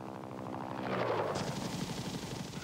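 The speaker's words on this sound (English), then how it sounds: "For the Army, the basic infantry transport helicopter was the UH-1 Huey." A UH-1 Huey military transport helicopter with a steady, loud rotor throb and turbine whine that swells slightly midway, heard up close without any voices.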